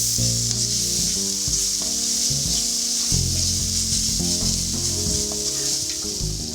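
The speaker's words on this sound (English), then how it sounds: "Keep stirring the onion from time to time so that it cooks evenly and doesn't burn." Onions frying in a pan with a little water, a steady loud sizzle with repeated scraping strokes of stirring, close up and alone without talk, while a low music bed runs underneath.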